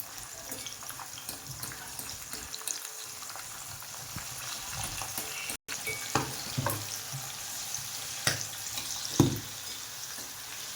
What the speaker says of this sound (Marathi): लसूण ब्राउन ब्राऊन होईपर्यंत तळायचं आहे त्याला